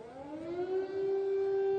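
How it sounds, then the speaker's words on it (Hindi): Air raid siren wailing in Kyiv, a steady rising tone with harmonics that climbs slightly and holds, loud and continuous throughout with no voices. "एयर रेड सायरन्स जो हैं वो आपको इस समय सुनाई दे रहे हैं"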